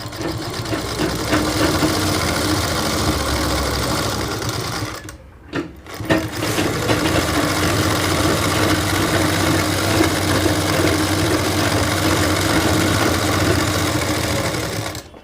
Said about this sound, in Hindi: फिट करने के बाद अब हम जो है इस पर सिलाई लगा देते हैं, एक टाँका हटा के।